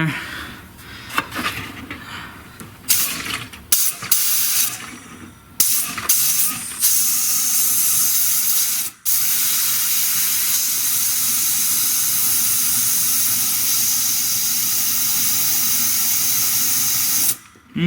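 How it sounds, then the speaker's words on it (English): A compressed air hose blasts through the transmission cooler lines of a Chrysler Town & Country, first in short irregular bursts, then in one long continuous loud hiss broken by a brief pause. "I'm going to start off by using the air hose again"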